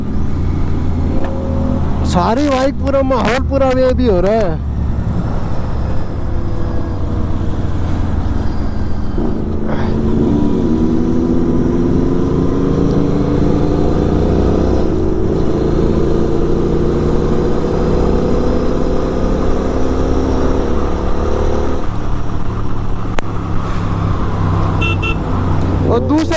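A superbike fitted with an SC Project exhaust runs on the road from Gurugram toward Lansdowne, its steady engine drone and rising rev pitch loud and continuous. Traffic and a car horn sound around it, and someone talks over the ride.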